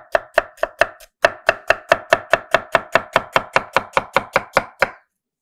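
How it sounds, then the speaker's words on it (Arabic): A knife chops vegetables on a cutting board in a quick, even rhythm, about twenty crisp close strikes with one short pause early on, loud and with no talking. "يا عيني على الصوت، صوت التقطيع حكاية"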